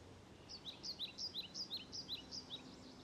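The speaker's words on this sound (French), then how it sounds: "vous pouvez entendre la musique avec les petits oiseaux, la nature" A small bird chirps in a quick, rhythmic series of high, thin notes, soft against a quiet, hissy background.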